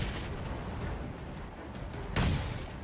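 An explosion on a rooftop in PUBG Battlegrounds bursts out suddenly and loudly near the end, after a stretch of dull background rumble.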